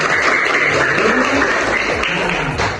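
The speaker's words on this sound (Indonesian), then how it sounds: "Tepuk tangan dulu teman-teman." A class of students claps together in a classroom, a dense continuous patter of hands with faint voices mixed in.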